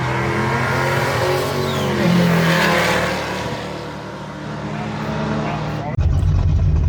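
A Datsun drag car with over 500 horsepower accelerating down the strip at a track day, a loud engine roar rising and fading, with voices talking nearby.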